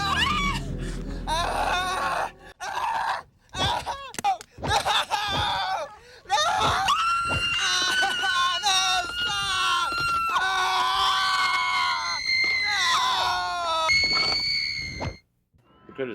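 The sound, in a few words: Quiltface's horrific shriek in the horror film Carnage Road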